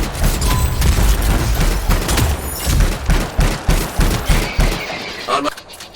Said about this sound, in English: Now this gun's more powerful, but it just one-shots basically.